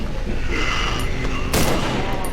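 Loud gunfire in the horror video game Cry of Fear as players shoot at a giant monster, dense rapid shots with a sharp burst near the end, continuous and close.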